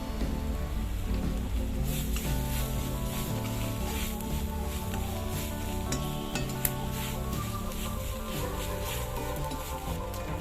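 Spices such as chilli powder and turmeric are stirred in a pan for a spicy soya chunks roast. A steady sizzle and soft scraping run throughout under continuous background music.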